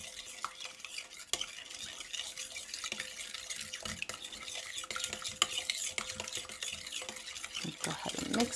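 Plain yogurt being stirred into homemade naan dough in a bowl, soft wet scraping and clicking of a utensil repeating irregularly throughout, close and fairly quiet, with no talk.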